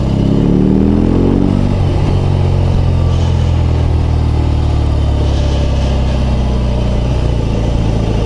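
A BMW R18 B bagger motorcycle engine pulls away, a loud, steady low rumble from close by with a rising whine near the start, running continuously without talk.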